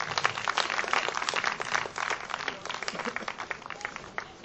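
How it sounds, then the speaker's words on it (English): Live audience applause with dense, continuous clapping at moderate level throughout, a steady round of hand claps at a fellowship gathering. "a big round of applause for her"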